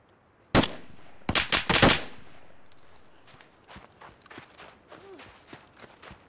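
Gunfire in the video game Escape from Tarkov: a sharp single shot followed by a rapid cluster of loud reports, then fading echo and soft footsteps and gear rustling.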